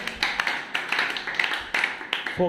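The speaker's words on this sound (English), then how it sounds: "She also deserves a huge round of applause" A small group of students gives a classmate a round of applause, with scattered, uneven hand claps popping close by at an irregular rhythm for a couple of seconds.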